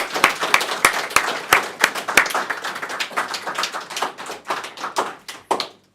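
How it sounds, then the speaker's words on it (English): A small audience at the Qubes OS Summit applauds, with sharp, scattered hand claps that start brisk and loud, then thin out and fade over a few seconds. "I of course at the end would like to give one more round of applause for our sponsors."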